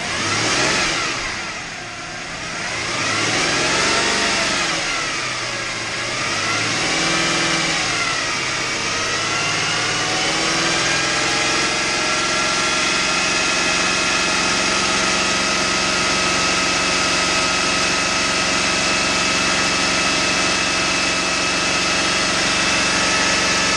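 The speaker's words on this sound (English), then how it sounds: "Go ahead and rev it up." A Subaru EZ30 flat-six, running with head gasket trouble, revs up in a couple of rising and falling sweeps, then settles into a steady, loud idle that drones on alone for the rest of the clip.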